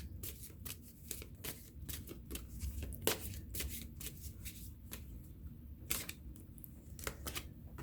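Tarot cards shuffled and handled during a love reading, a steady run of quiet papery flicks and soft snaps, close and alone with no talking.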